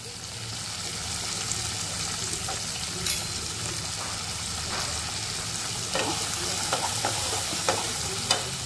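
Mixed vegetables, including field beans and fresh peas, sizzle steadily in a pan while being stir-fried, with scattered clinks of a spatula scraping through them; no one speaks.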